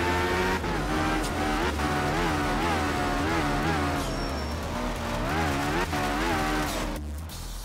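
Rally car racing in the video game Art of Rally on a dry gravel stage in Sardinia, engine revving up and down steadily with brief tire scrabble, loud and continuous.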